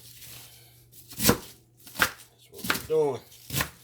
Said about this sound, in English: Get this all chopped up good here